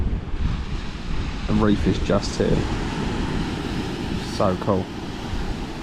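Ocean surf washes steadily onto the beach beside the reef at Hamelin Bay, a broad continuous wash with wind noise on the microphone and a couple of short spoken bursts over it.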